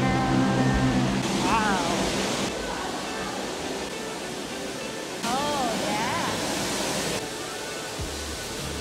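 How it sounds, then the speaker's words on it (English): Steady rushing water fills the space at the teamLab Planets exhibit in Tokyo, a continuous close wash of flow while people exclaim briefly over it. "I hear the water."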